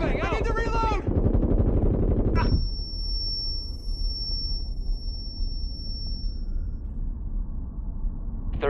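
Gunfire in the Rainbow Six Siege video game during a bomb defusal round: a dense burst of loud shots in the opening seconds, then a quieter stretch with a steady electronic tone and background rumble, with a voice heard early on.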